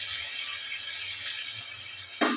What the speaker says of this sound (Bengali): জল দিয়ে একটু কষিয়ে নিচ্ছি।